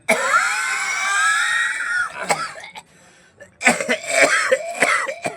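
A person lets out a run of harsh, throaty coughs and throat clearing, close and loud, with a brief quiet gap before more hacking bursts.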